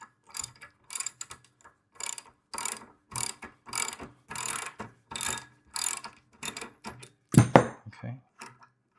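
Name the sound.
ratchet wrench loosening 18 mm bolts on plate compactor handle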